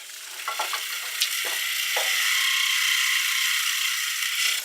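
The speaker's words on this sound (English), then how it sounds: "To get underneath, I'm actually going to switch to a spindle gouge here." Spindle gouge cutting wood on a lathe, a steady hissing shave with a few scraping catches at the start, holding on for several seconds, close and without talk.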